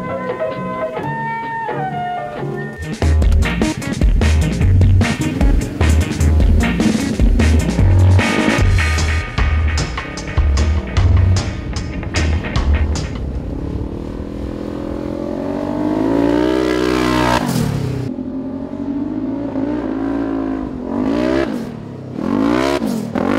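An E85-fuelled Polaris RZR XP Turbo with an Aerocharger revs in a rapid series of sharp blips. The engine then sweeps up and down through long, loud revs that rise and fall close by.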